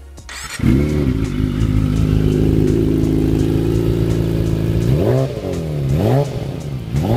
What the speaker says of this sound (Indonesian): suara 4 silindernya itu loh. Apalagi kalau ganti knalpot racing seperti motor yang saya review ini.